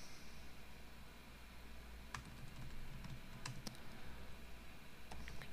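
Steady, close typing on a computer keyboard with a few sharper key clicks over a low background hum, and no talk.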